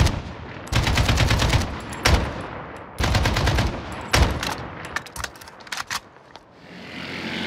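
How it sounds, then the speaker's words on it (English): Bursts of gunfire in a street in Port-au-Prince, Haiti: loud volleys of rapid cracks and several single shots, some overlapping, echoing close by between short pauses. "we have to wait behind this wall until the shooting stops"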